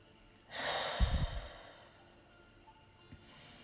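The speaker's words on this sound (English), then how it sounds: "So let's take a nice deep breath together." A single deep breath is drawn in and then released in a long exhale, close and soft, ending in a brief breathy puff, followed by near silence.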